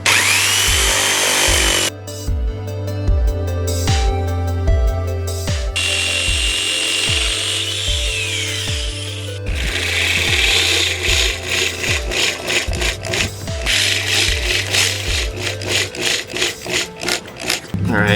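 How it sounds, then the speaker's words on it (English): A jigsaw buzzes loudly and rapidly close by, chattering through scrap wood in long continuous cuts with brief pauses and shifts in pitch. "Now we're going to use a jigsaw to cut the corners off."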